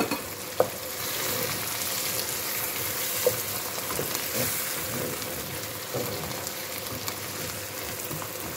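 Onion frying in a pan crackles with a steady, close sizzle and occasional stirring taps and pops that run unbroken for several seconds with no talk.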